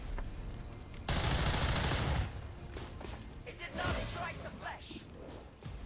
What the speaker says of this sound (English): Maybe I'm just shooting at the mech.